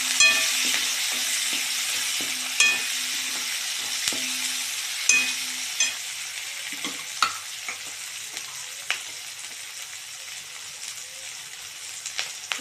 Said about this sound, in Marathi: आता आपण यात शिमला मिरची ॲड करू। तिथून तेलात तळून घेऊ।